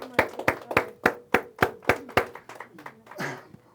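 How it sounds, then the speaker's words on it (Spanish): A congregation claps in a run of about ten sharp, evenly spaced claps that loosen and fade. A voice begins speaking as the claps die out. "Pues un aplauso"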